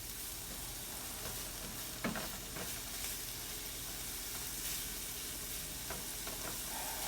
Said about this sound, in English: we're going to let those veggies sweat and saute a little bit before adding the rice